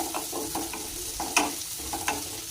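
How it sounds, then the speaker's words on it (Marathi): Potatoes and peanuts fry in a pan for Mumbai-style batata poha, stirred with a spoon that scrapes and taps the pan at a steady pace over a constant sizzle. "याला दोन मिनटं छान असं हलवून घेणार आहोत आपण एकसारखं"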